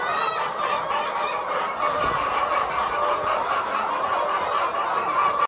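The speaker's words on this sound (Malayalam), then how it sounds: "സൗണ്ട് കേട്ടോ കോഴികൾ" Hens in an enclosed egg-laying chicken unit cluck and squawk continuously, a dense flock chorus at steady, fairly close volume with no talking.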